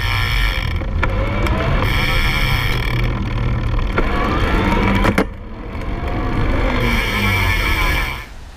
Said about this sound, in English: I'll put the camera on the bike as we start riding just here on the pavement.